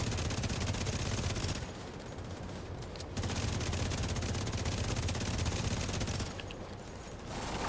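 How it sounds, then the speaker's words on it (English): Sustained automatic gunfire in a video game rattles almost without pause, loud and dense, dipping briefly twice before the volleys resume. "like only one other person is shooting at this."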